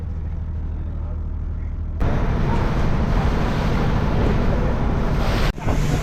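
A boat ride on the sea at Rameshwaram brings a constant roar of wind buffeting the microphone over rushing waves and the boat's hull, growing louder partway through, with a brief dip near the end.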